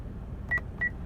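Two short electronic confirmation beeps from the seat memory button of a 2005 Buick LeSabre, close and clear against a low cabin hum.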